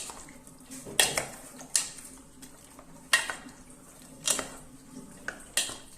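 Chicken wings coated with a couple of tablespoons of cooking wine are stirred in a pan, giving a slow, regular series of light metallic clinks and scrapes over a quiet background.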